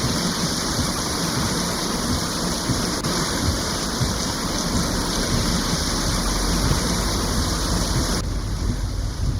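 Heavy rain pours steadily and loudly during flooding in Monterrey, a dense unbroken roar with a deep low rumble running through the whole stretch.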